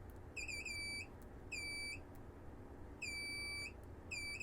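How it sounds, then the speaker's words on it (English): A multimeter set to continuity beeps as its probes touch a fuse on a PS1 controller port board, giving four steady high-pitched tones of about half a second each, evenly spaced, clear and close over faint background hiss. "I put my meter on continuity, and that's what you should hear"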